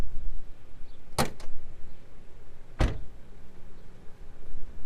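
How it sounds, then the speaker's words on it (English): Hood release and latch of a 2013 BMW X5 M: two sharp close clunks, one near the start and another a second and a half later, over low background rumble with no talking. "We're going to pop the hood because that's where the conversation starts here."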